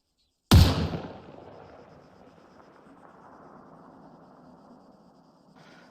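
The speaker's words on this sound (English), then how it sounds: "Let's take our first shot." A single long-range sniper rifle shot in ARMA 3 cracks out sharply after a moment of silence, then rolls away in a long, fading echo.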